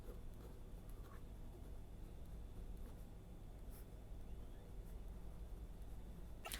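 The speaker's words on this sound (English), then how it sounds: "I will write it down again." Pen or marker writing out an optimal control problem by hand on a surface, faint steady scratching strokes over a constant low hum, with no talking.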